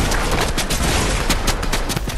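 Rapid bursts of gunfire in a Red vs Blue video game, dense and loud, overlapping shots crackling continuously with no pauses.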